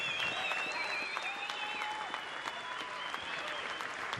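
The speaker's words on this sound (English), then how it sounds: "Let's have a warm round of applause for Chief Warrant Officer Anderson and for all of our brave men and women for their sacrifices for our country." A large crowd claps steadily in a stadium at a hockey game, the applause sustained and fairly distant, with scattered whistles and cheers rising over the sound.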